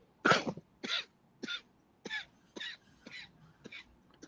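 Someone coughs repeatedly up close: about eight harsh, separate coughs and throat-clearing bursts spaced roughly half a second apart, the first strongest and the rest gradually weaker, with no speech between them.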